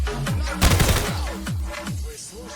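SA-58 rifle fire in the shooter game Escape From Tarkov, several sharp, loud shots in irregular succession with a brief flurry of rapid fire partway through, up close and without talking.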